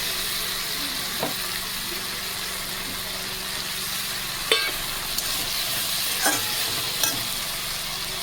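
Chopped tomatoes frying in a pan for chicken curry, a steady hiss with a few brief scraping stirs and clinks standing out over it.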